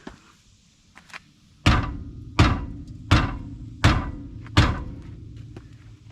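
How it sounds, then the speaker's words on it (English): A soft hammer strikes during drum brake work on a Buick Skylark: five loud, evenly spaced thuds, each ringing briefly, preceded by a couple of fainter taps, all close by with no talk. "Should I get a hard hammer instead of this soft one?"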